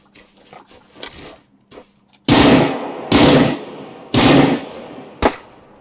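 Gunfire from a gun in PUBG Lite: a few quieter scattered shots, then three loud, short automatic bursts and a final single shot, each ending with a fading tail.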